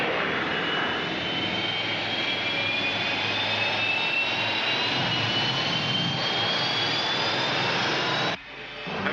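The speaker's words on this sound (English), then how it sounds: "Rescue ship moving." A rescue spaceship engine from a sci-fi show drones steadily as a loud, continuous roar with a rising whine, holding at full strength for about eight seconds before dropping off sharply near the end.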